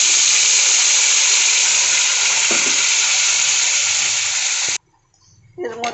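Spice paste sizzles loudly and steadily in a hot pan with oil and whole garam masala, a dense hiss that cuts off abruptly near the end, leaving quiet with a few clinks and brief sounds.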